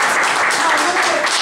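Applause fills a political assembly in Ancona, a dense, steady wash of clapping from the crowd that carries on without a break for the whole moment.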